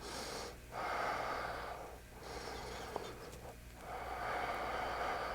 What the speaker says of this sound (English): And just pause for a few breaths.